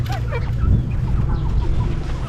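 Chickens clucking at a rural morning market in Sepon, Laos, repeated short close clucks and squawks over a busy low background hum.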